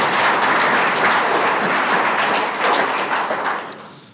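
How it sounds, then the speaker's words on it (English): Audience applause for Natalie at an economic forecast presentation, a steady, full crowd of clapping sustained for about four seconds before it starts to taper. "let's just give her one more round of applause"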